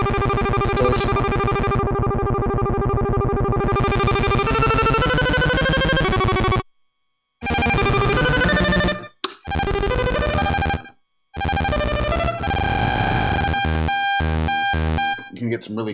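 Buzzy, heavily distorted tones from a Behringer Model D analog synth with its filter off and distortion on, shifting pitch and glitching, cutting out abruptly several times.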